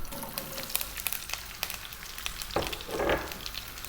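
Onion frying in a pan on fairly high heat for a vegan potato curry: a continuous crackling sizzle broken by sharp pops and spatters, steady and close with no talk.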